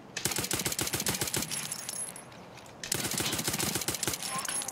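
Rapid automatic gunfire in the shooter game Escape From Tarkov, two dense bursts of closely spaced shots separated by a short pause, loud and near with no speech.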